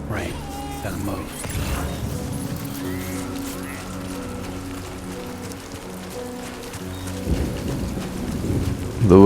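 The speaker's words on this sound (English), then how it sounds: "Great. Rain. Gotta move." Rain and rolling thunder in the video game Death Stranding 2, a steady wash of rainfall with low rumbling swells and a louder thunderous build at the end, faint game sounds underneath.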